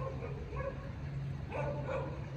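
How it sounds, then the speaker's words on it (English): A dog barks and yips across a residential street on a nighttime walk, a few moderately distant barks over a steady low hum. "There's a dog barking across the street."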